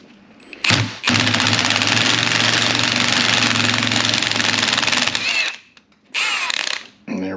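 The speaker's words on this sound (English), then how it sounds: "start to get a little bit of progress in pulling output of 6th gear off" A gear puller draws 6th gear off a VW 02S gearbox, driven by a long, loud continuous ratcheting whir from an impact tool that stops and then returns for a second short burst.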